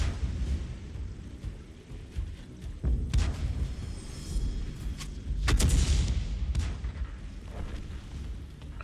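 Artillery fire in the tank game World of Tanks, deep booming blasts and rumbling explosions recurring over several seconds, loud and low-heavy with a sustained roar between hits.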